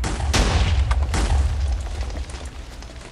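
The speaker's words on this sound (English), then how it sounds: "it's gonna blow up my TNT cannon." A Minecraft TNT cannon blowing up: a string of heavy game explosions, booming blasts overlapping in quick succession with a rumbling tail that fades over a few seconds, loud and close.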